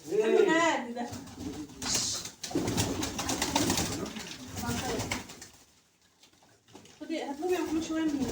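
Pigeons coo in short bursts close by, their soft throaty calls broken by gaps, while people talk over and between them in a domestic setting.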